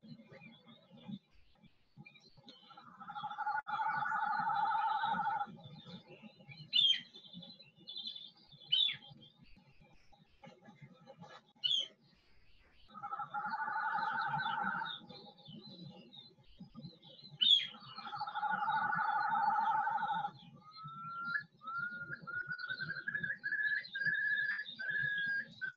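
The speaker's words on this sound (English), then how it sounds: "so that was the hen harrier" A hen harrier calls in repeated drawn-out, wavering whistles at a distance, with high chirps scattered between the phrases over a soft background hum.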